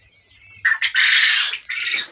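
Quail birds at a farm give a few loud, harsh squawking calls in quick succession, close to the recorder, with no talking.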